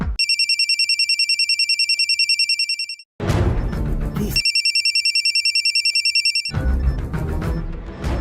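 A telephone rings in two long electronic bursts of rapid trilling, each followed by a pause filled with other sound, loud and close.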